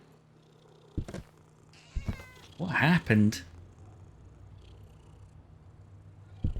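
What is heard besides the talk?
cat purring in the video game Demonologist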